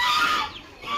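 A chicken at a meat shop in Bhubaneswar gives one shrill, close squawk that fades quickly within a second.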